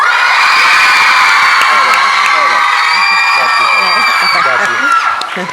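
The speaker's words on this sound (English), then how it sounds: "We're not handing out a single award until we hear a real cheer." A crowd of children at a Shakespeare festival awards session cheers and shouts continuously, loud and close, with high whoops and yells layered over a sustained roar that fades slightly at the end.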